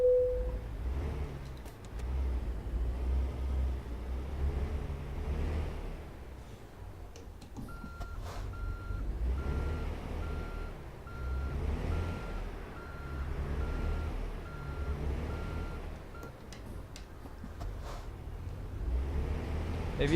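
A truck engine in American Truck Simulator starts and drives, with a steady low diesel rumble throughout and a repeating electronic beeping partway through.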